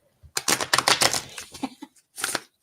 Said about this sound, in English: let's see if I can do my famous shuffle here with these older cards